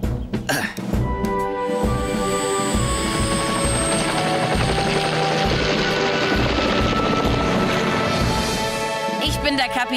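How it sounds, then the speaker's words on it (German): A helicopter roars loudly and continuously with a steady rotor thump, a brief cough or throat sound near the start. "seinen Hubschrauber zu Hilfe holen"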